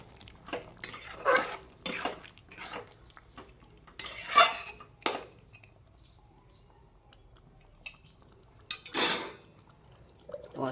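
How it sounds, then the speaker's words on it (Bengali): Mutton curry is stirred and fried in a pot, a spoon scraping and clanking against the metal in scattered bursts, with soft sizzling between them. The sounds are close and nobody talks. "আর চাপাটা খুলবো একবার করে নাড়বো অন্তত আধ ঘন্টা কষবো"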